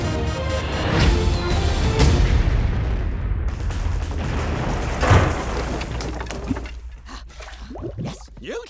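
Cannon blasts from a naval battle game in a family comedy film trailer, several heavy booms with rumbling tails spread across the clip, fading out toward the end.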